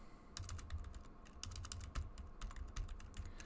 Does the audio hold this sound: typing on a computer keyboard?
yes